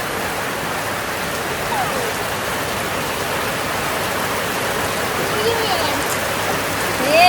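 Heavy rain pours down on a road with a constant, dense hiss of drops, steady and loud, swelling slightly at the very end.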